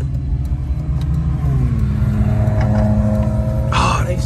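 A Jeep SRT engine rumbles steadily from inside the cabin while driving, with a low continuous drone that rises slightly in pitch partway through, and a brief higher whine near the end.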